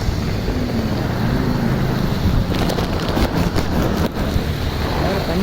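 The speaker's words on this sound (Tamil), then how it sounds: "மழை அப்படி பெய்யுது" Heavy rain pours down in Chennai during a cyclone, with construction work nearby, making a thick continuous roar with gusty wind-like rushes and brief crackling bursts.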